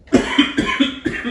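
A man coughs about five times in a quick, uneven series of harsh, close bursts, with nothing else heard.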